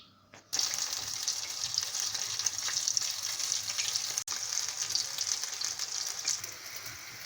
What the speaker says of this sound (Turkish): Şimdi de kızartacağım.